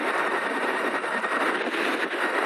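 Electric motorbike under max throttle, a continuous whirring rush with wind-like noise, steady and fairly close, no engine rumble.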